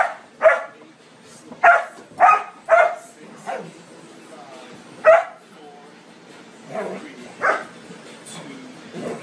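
An arthritic dog plays around the house, letting out a series of sharp close barks and yips in uneven bursts, with a person's voice nearby between them.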